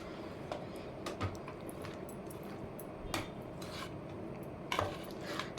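Roasted peanuts being stirred into hot, sticky jaggery syrup in a pan, giving soft scraping and occasional utensil clinks at close range over a steady low background, with no talking.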